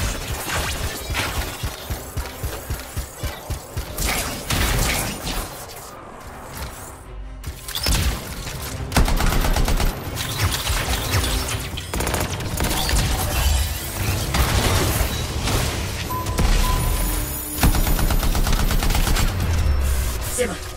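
Rapid bursts of weapon fire from the video game Anthem rattle through a dense, loud mix of mechanical clanks and explosions, with brief lulls between volleys and a game voice briefly heard.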